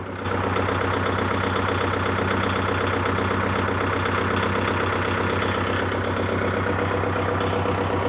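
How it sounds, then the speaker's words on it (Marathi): A Kubota tractor engine idles steadily, a close, even diesel rumble with a constant low hum, running alone without pauses. "ट्रॅक्टर चालू आहे तुमच्या समोर"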